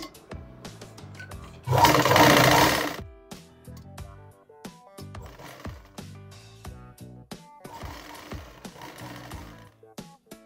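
A sewing machine stitches khun fabric pieces for a handmade toran. It gives one loud, dense burst of about a second, set against steady background music.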